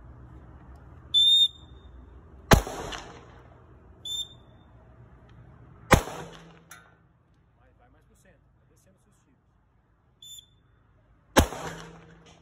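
Several sharp, loud 9mm pistol shots ring out at spaced intervals on a shooting range, each preceded by a short high whistle blast, with distant murmuring voices between.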